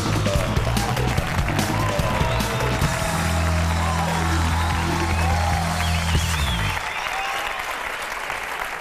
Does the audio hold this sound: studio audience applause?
yes